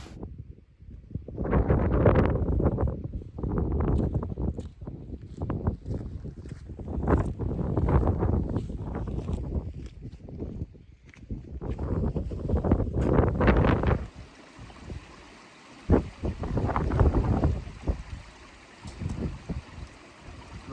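Strong gusts of wind on Ben Nevis buffet the microphone in heavy, uneven bursts, then ease into a softer, steady airy rush.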